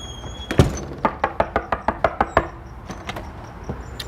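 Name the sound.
knocking on a door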